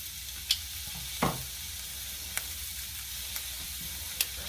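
A filet mignon steak sears in a hot pan with a steady close sizzle, broken by a few short crackles and pops spread across the few seconds.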